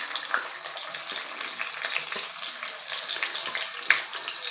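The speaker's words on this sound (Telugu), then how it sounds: "ఉల్లిగడ్డలు, ఆనియన్స్ మంచిగా ఫ్రై అవ్వాలి" Onions and curry leaves fry in a pan with hot oil, a continuous close crackling sizzle broken by small sharp pops and faint stirring scrapes.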